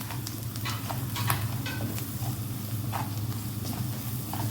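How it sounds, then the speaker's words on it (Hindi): Black pepper, salt and turmeric powder are stirred together in a cooking pot. A spoon scrapes and clicks in an irregular rhythm over a steady low sizzle, close and moderately loud. "थोड़ा सा मिक्स करेंगे।"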